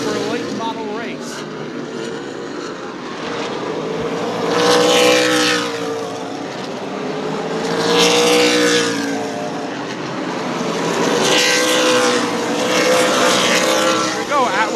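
Late model stock cars race in the Clyde Hart Memorial 100, with engines roaring loudly past in repeated waves of rising and falling pitch as the field laps, over a steady background of engine drone.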